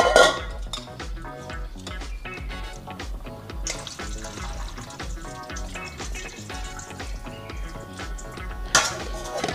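Moong dal being washed in water in a metal pot, with steady clinking and scraping of the pot and sloshing water throughout, close and fairly loud, no talking.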